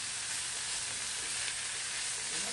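Food sizzles steadily in a hot pan, a continuous close, bright hiss with no talking.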